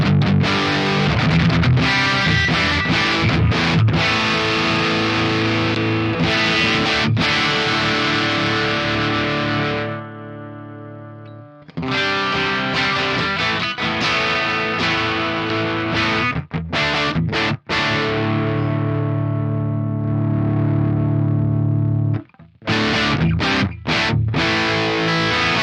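Electric guitar through a Diezel Herbert amp model on an Axe Fx III with the input cranked, heavily distorted chords ringing out loud and thick, broken by brief pauses and choppy palm-muted stabs, with no talking.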